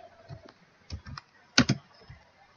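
A handful of keystrokes tapped on a computer keyboard, close and clear, coming in an irregular patter with brief gaps between presses.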